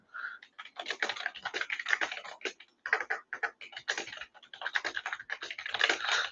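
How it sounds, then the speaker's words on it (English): Rapid, irregular clatter of keys on a computer keyboard, close and fairly loud, in bursts with brief pauses throughout, no voices over it. "let me type this in. Uh-oh. Why is this not typing?"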